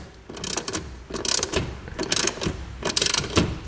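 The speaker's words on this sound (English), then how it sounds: "Then we'll go ahead and just tighten up these 1/4 inch screws to the side of the unit." Quarter-inch screws being tightened into the side of a Chamberlain RJO20 wall-mount garage door opener, a series of close ratcheting clicks in quick bursts with short pauses between.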